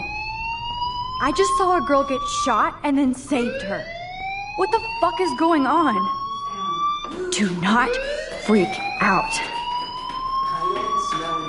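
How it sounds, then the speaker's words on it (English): A fire alarm blares in repeated rising whoops that sweep upward in pitch, loud and continuous, while a voice talks over it. "do you hear that fire alarm?"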